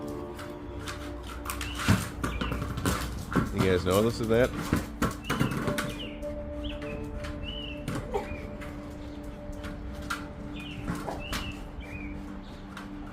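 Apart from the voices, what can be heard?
birds singing during the solar eclipse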